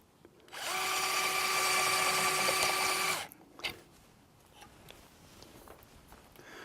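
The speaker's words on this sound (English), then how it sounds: "Now we're going to use our new design Calcar reamer. It's really designed to cut the bone rather than break it." A Calcar reamer cuts into a sawbone model hip, giving a loud, steady high-pitched whirring grind for about two and a half seconds before stopping abruptly, followed by faint clicks and handling sounds.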